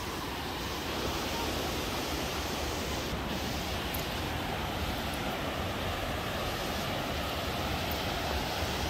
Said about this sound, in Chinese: 日本八大瀑布之一